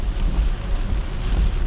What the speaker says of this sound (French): Il pleut au Québec, là, dans le sud du Québec.